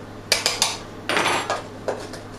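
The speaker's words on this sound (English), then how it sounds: "all you want to do is just stir it around a little bit." Spoon scraping and clinking against a bowl while stirring clumping homemade raw peanut butter, several sharp strokes followed by a longer grinding scrape and one more knock, close and fairly loud with no talk.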